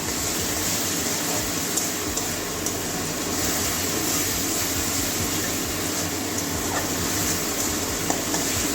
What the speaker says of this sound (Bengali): এবারে মশলার সঙ্গে ভালো করে কষিয়ে নেব